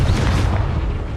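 A Confringo fire spell blasts in the Hogwarts Legacy video game, with a loud, deep, rumbling boom that fills the moment and fades slowly, and no voices.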